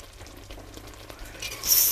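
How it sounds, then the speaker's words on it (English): Summer berry jam bubbling in a pot as the boil dies down, soft crackling and popping patter, quiet at first and swelling into a brief louder hiss near the end. "Let the boil come down."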